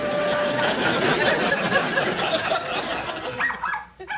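A dog howls in a long, wavering sung tone over plinking piano notes, loud and close, with a brief trailing yelp near the end and some background laughter.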